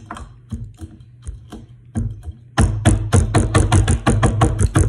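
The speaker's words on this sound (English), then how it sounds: "the cloves mostly, because you can't grind down the cinnamon all the way down" Cloves and cinnamon are ground by hand for a homemade oil, with sparse scraping crunches at first, then a fast, loud run of rhythmic grinding clicks close to the mic.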